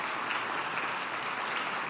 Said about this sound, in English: Can you please offer them a round of applause and welcome them?